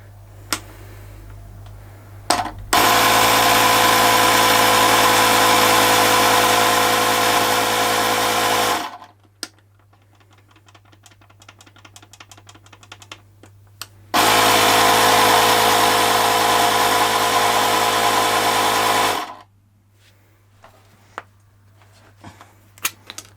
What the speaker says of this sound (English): I've noticed the back tyre's a bit flat, so let's pump the back tyre up